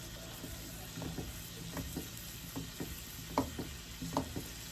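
Seasoned meat sizzles steadily while frying in a pan, with a spoon stirring through it in soft scraping bursts roughly every second, close and continuous without talk.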